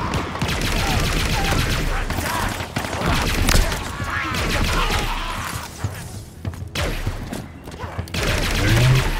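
Plasma pistol fire in the video game Halo Infinite during a base assault mission: loud bursts of energy-weapon shots and thuds crackle in a dense, busy stretch of combat, with a voice talking in places.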